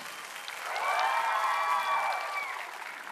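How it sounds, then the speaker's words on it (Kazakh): Stand-up comedy audience applause building from quiet to a full, steady burst of clapping, with a few cheers rising over it, then easing off, fairly faint and distant overall. "Мне надо нормальные аплодисменты."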